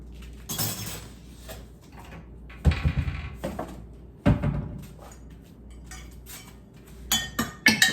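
Dishes and utensils being cleaned up in a small vintage kitchen: intermittent clinks of cutlery, glass and pots, with several sharp clattering bursts and quieter rattles between them, close by.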